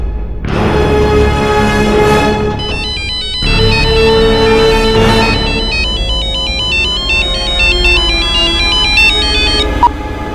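A phone ringtone rings loud and repeatedly, its electronic melody cycling with short breaks and no one answering.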